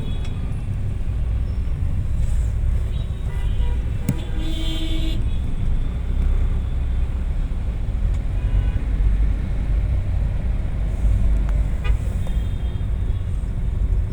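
Dense road traffic stuck in a heavy jam in the airport area, a constant engine drone with scattered short car horn toots, loud and continuous with no speech.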